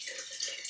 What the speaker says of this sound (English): Then you take and you add water.